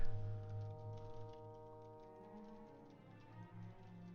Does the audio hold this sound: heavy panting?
no